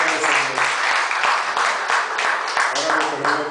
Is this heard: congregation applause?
yes